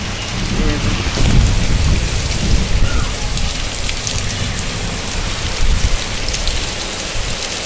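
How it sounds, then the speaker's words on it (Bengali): Heavy rain with thunder lashes down outside an open window, a loud dense roar of falling water with deep rumbling surges, unbroken and close, with no one speaking. "জোরে বৃষ্টি হচ্ছে।"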